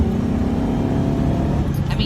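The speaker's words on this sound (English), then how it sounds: "it's just the noise that fills the cabin whenever you put your foot to the ground" A 1999 Ford Mustang 35th Anniversary Edition with a V6, a cold air intake and stock exhaust revs loudly, its engine roar filling the cabin steadily, heard from inside the car.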